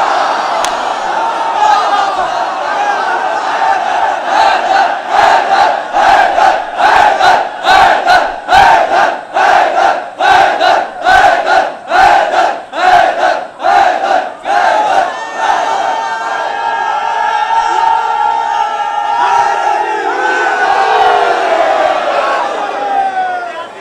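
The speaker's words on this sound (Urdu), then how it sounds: "جہاں بھی حیدر حیدر کے نعرے لگتے ہیں" A large crowd at a religious gathering at Dargah Jogipura chants Haidar Haidar slogans in loud, rhythmic bursts about twice a second, then breaks into a sustained roar of massed voices.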